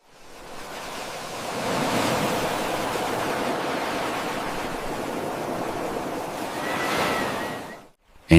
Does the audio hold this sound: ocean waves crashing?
yes